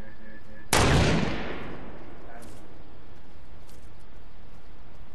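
A single loud, sharp sniper rifle shot fires in a first-person shooter video game, its crack decaying into a reverberant tail over about a second, followed by a few faint clicks.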